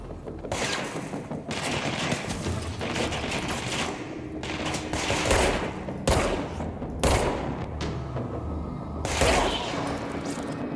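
Rapid bursts of gunfire in a Remedy action video game, loud repeated volleys and single shots crackling across the whole stretch, near and punchy.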